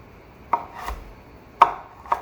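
Three sharp knife chops on a cutting board while preparing vegetables for Jamaican seasoned rice, close and crisp with short pauses between strokes.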